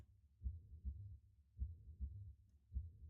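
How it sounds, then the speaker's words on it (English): A heartbeat from the Burn the Midnight Oil demo video game thumps low and muffled in steady paired beats, about three double thuds, soft and alone against silence. "There's a heartbeat."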